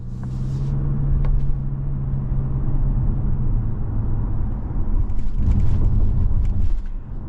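A 2025 Toyota RAV4 XSE Hybrid driving on the road, heard as a steady low rumble of road and engine noise from inside the cabin, loud and continuous with no talking.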